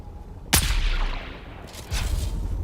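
A sniper rifle shot in the video game Dune: Awakening: one sharp, loud crack with a long rolling tail, followed by a second, softer distant report.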